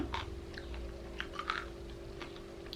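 Close crunching as crispy baked jackfruit is chewed, a few soft crisp bites and chews spread irregularly over a steady low background hum, with no talking.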